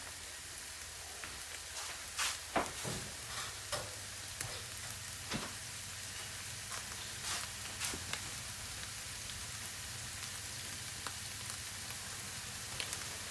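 Stuffed mushrooms sizzling in a pan, a steady low frying hiss with scattered pops and crackles, close and moderately quiet, no voices.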